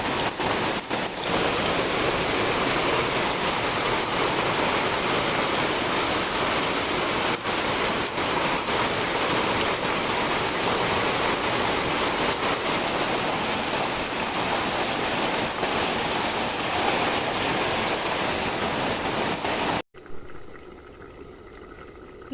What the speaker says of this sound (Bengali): প্রচুর প্রচুর বৃষ্টি হচ্ছে।